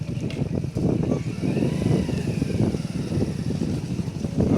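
Motorcycle engine rumbling at low speed during a slow training ride, a close, steady, uneven chugging with slight throttle swells that carries on throughout.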